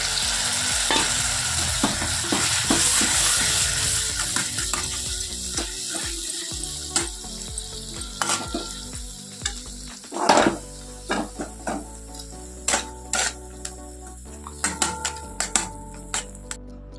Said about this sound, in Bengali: এবার আমি সর্ষে পোস্তটা দিয়ে দেবো